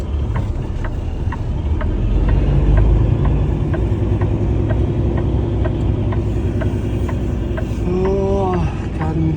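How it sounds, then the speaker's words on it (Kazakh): A car comes along a road on a frosty, below-freezing day, its engine rumble swelling louder toward the middle over a constant background drone. A brief whining tone appears near the end. "Ана көлік келіп жатыр ау деймін"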